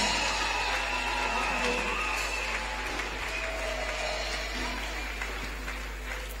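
A church congregation claps in praise of Jesus, a dense, steady wash of applause from many hands that holds at an even level throughout, with a faint musical tone running underneath.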